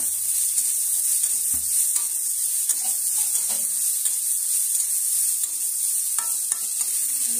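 Jhudanga seeds fry with golden-browned onions in a pan, giving a constant bright sizzle with scattered scraping and stirring knocks throughout; no speech.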